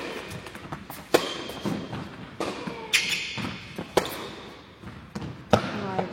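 Tennis balls are struck during a point on serve in a club tournament match. Several sharp, punchy hits come at irregular intervals over a busy background with faint crowd noise.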